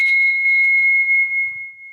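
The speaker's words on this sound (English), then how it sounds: "I guess he's getting used to the bell, or I didn't ring it loud enough." A single bell strike opens a morning meeting, its clear ringing tone hanging and slowly fading over about two seconds, with only faint background sounds beneath it.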